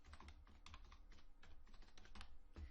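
Quick, irregular clicks of computer keyboard typing, close and faint, with no voices.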